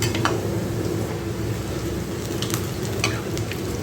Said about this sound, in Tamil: இப்படி ஒவ்வொன்றா எடுத்து எண்ணெய்க்குள்ளே போட்டுக்கலாம்